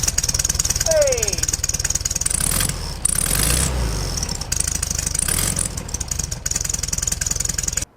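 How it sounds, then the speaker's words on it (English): A Volkswagen Beetle air-cooled engine idling and revving with its exhaust tips fitted, a loud steady rumbling chug with a rising chirping whine, close up, with a brief shout over it. "Beetles have a super distinctive chirping sound, and it turns out it's all due to these right here, the exhaust tips."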